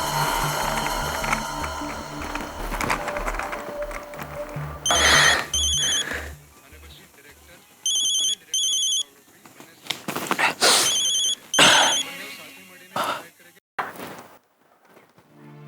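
A telephone rings in repeated short electronic bursts, several separate trill groups spaced a few seconds apart, loud and close, over a backdrop of dramatic music with brief breaths.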